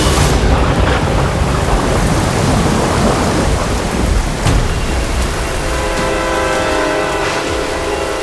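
Heavy rain pours steadily with rumbling thunder throughout, loud and close, forming a dense storm wash with occasional sharper cracks and no talk.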